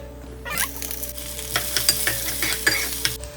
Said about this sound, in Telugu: జింజర్ ఫ్రై అయ్యాక ఆవాలు, శనగపప్పు, కొంచెం మినప్పప్పు